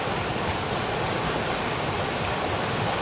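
Steady rushing of water flowing along a canal stream beside onion fields, a continuous broadband wash that stays even and unbroken throughout, with no voices.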